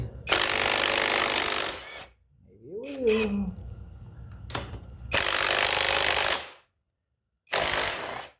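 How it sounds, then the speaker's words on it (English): Loud bursts of a small cordless drill whirring on the lowering link bolts of a 2022 KX motorcycle in several long runs with short gaps, a brief spoken remark and a metallic clank between them. "I don't know if my little drill will get these."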